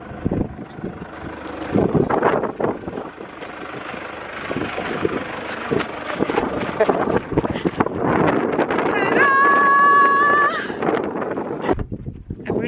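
Strong wind buffets the microphone throughout with heavy, continuous rumbling gusts, loud and close, with a brief tonal whine partway through.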